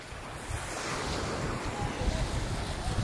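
Ocean surf rolls at Lola Paul Beach in Pasiagon, Masbate, a steady broad wash of waves mixed with gusty wind buffeting the microphone, loud and continuous, with no voices.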